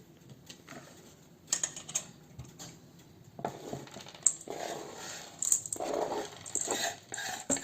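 Crushed chocolate being stirred into cookie batter in a bowl, irregular soft clinks, scrapes and taps of a utensil against the bowl, close and fairly quiet with no talking.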